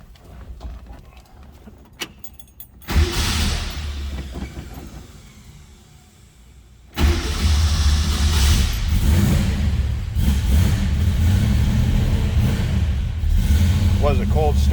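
A 1966 Ford Mustang Shelby GT350 Hertz tribute's V8 cranks briefly, then catches on a cold start and settles into a loud, steady rumbling idle, close by.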